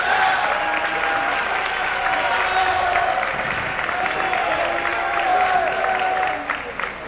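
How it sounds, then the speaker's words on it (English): Sustained audience applause for performers at a military academy talent show, a full steady roar of clapping from a large crowd with faint cheering, easing slightly at the very end. "Let's give them a big round of applause."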